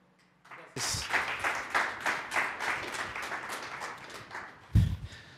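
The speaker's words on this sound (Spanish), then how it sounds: "Recibamos con un fuerte aplauso" Attendees at a mining conference in Peru break into applause for a speaker, a round of clapping that starts abruptly, holds steady with rhythmic swells, then tails off.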